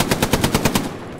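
Rapid automatic gunfire in the World War II shooter game Hell Let Loose, a steady rhythmic burst of about nine close, loud shots over roughly a second, with no talking.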